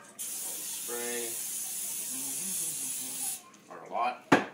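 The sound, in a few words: spraying muffin tray with cooking spray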